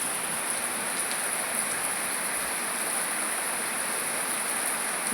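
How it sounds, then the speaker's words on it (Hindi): Heavy monsoon-style rain pours steadily outdoors, a dense, even hiss with no breaks and no voices. "आप सभी लोग देखिए एकदम झमाझम वाली बारिश हो रही है।"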